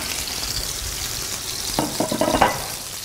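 Food frying in hot oil in a home kitchen, a soft steady sizzle with a few louder crackling pops toward the end.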